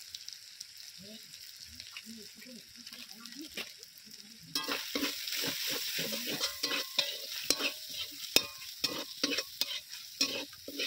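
Curry masala with red chili powder and turmeric powder frying in a pan, with steady sizzling and repeated scraping stir strokes that grow louder and busier partway through.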